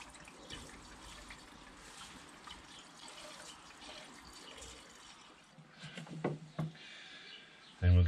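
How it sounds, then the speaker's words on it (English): Quiet, continuous pour of coolant into the expansion tank of a BMW E65 730d, with a soft gurgle, a few faint knocks and splashes toward the end. "Just add the coolant to the expansion tank"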